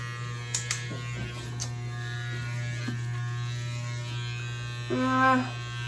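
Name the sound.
electric clippers shaving a head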